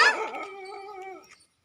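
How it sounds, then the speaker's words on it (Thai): A dog barks in welcome at a grandmother's home: a single close, loud, drawn-out bark-yelp with clear tonal harmonics, fading out after about a second and a half. "มันเห่าต้อนรลบ ไขหวานไขหวาน"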